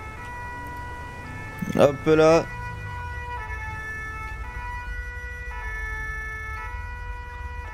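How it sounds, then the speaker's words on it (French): Ambulance sirens from a convoy in the video game GTA 5 wail as a steady electronic tone behind game ambience, with a brief loud burst near the start while someone speaks. "Un petit convoi d'ambulance."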